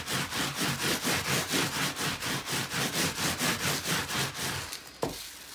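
Ridged rubbing tool worked back and forth over wet batt-fibre felt for a clutch purse, giving a steady, close rhythmic rasp of roughly three strokes a second, with a sharp knock near the end.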